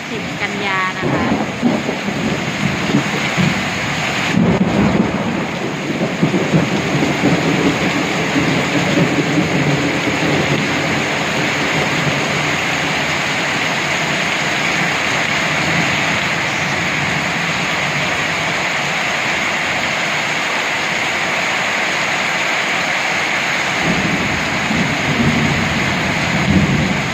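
A night thunderstorm brings a heavy, unbroken roar of rain with low rolling thunder beneath it, loud and close throughout, easing slightly near the end.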